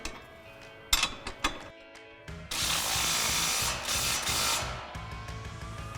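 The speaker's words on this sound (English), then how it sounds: "We're gonna grab our impact with our 18mm socket, tighten down the bottom one." An impact wrench with an 18mm socket tightens the lower bolt on a 2005-2010 Mustang front strut assembly: a few sharp clicks, then one loud, close, continuous hammering burst of about two seconds that trails off.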